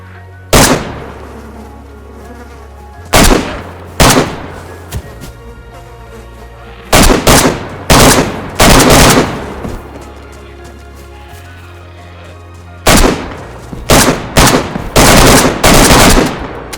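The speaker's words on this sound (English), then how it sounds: "you'll hear shots much clearer and impact sounds from much further away" AK rifle fire in DayZ sounds as loud, sharp cracks in short bursts of one to several shots, separated by quiet gaps, each shot trailing a brief echo.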